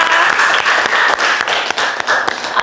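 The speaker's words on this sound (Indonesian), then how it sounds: "beri tepuk tangan dulu dong untuk Mbak Naura." A classroom of students claps for a classmate, a loud, steady burst of close, dense applause with sharp individual claps throughout.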